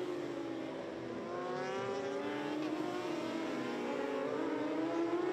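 Supersport motorcycles racing at the Imatranajo IRRC road race, rising and falling engine whines of several bikes screaming past, moderately distant and sustained, growing slightly louder.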